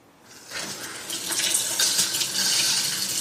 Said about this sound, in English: I had to reinstall the faucet, so we want to make sure that works.